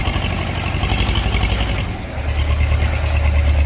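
A tractor-driven three-function farm implement runs steadily, a loud continuous low engine rumble with mechanical clatter that dips briefly midway before picking back up.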